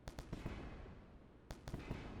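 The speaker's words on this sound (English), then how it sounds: "There goes another explosion from the side reactor I was showing you." Explosions from a spaceship's side reactor in the space combat game Wayward Terran Frontier crackle in two quick bursts of sharp pops, faint and fairly distant, separated by a low rumbling lull.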